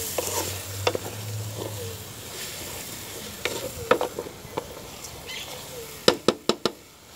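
Chicken-flavoured noodle soup mix and chicken pieces sautéing in a pan: a soft steady sizzle with a few sharp spoon knocks and scrapes on the pan, ending in a quick run of clacks.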